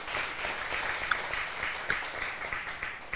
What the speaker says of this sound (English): please give applause for Professor Nazir.